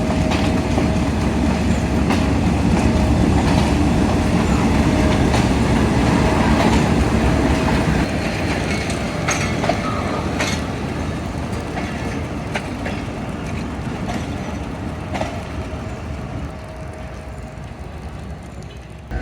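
A locomotive shunts a brake van at Kundian Junction, giving a loud, continuous rumble of rolling rail wheels with faint clicks and metallic squeaks, steady and close throughout.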